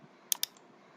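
Two quick, crisp mouse clicks close together, close-miked and isolated in an otherwise quiet room, pressing the OK button while working in drawing software.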